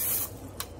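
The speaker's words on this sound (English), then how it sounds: "I'm just gonna spray them with a little bit of oil spray" Cooking oil spray hisses into ramekins in two short bursts, a longer spray followed by a brief quick puff, close and clear.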